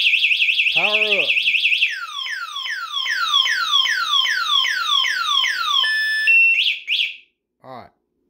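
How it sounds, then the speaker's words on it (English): A car alarm wails in a rapid siren-like warble, switching through several tone patterns before chirping off and falling silent near the end, loud and close. "Now I've turned our alarm off."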